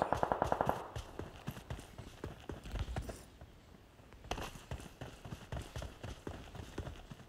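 Rapid automatic gunfire in an online shooter match, a quick burst of shots at the start followed by scattered distant pops and clattering movement sounds, fairly faint throughout.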